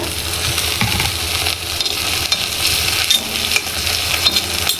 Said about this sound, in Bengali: রসুনটাকে একটু ভেজে নিব।